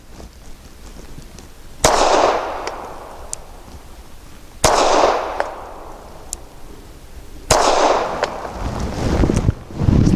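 A Springfield Armory 380 911 pistol fires three sharp, loud shots spaced a few seconds apart, each followed by a ringing, echoing tail outdoors.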